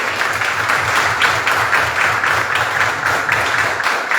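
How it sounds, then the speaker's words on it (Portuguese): A church congregation claps steadily, with dense, continuous applause at an even level throughout. "uma salva de palmas para Jesus."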